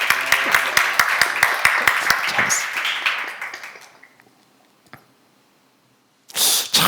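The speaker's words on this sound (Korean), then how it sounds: "박수 한번 쳐줘" Audience applause at a church seminar, a dense patter of many hands clapping for a few seconds, then tapering off into near silence before a brief loud burst returns at the end.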